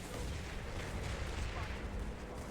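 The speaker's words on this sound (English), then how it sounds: "look at that cannon though. That's a big cannon." A big cannon fires in a competitive online shooter match, a dense, continuous roar of heavy booming blasts and rumbling explosions filling the scene, with faint voices underneath.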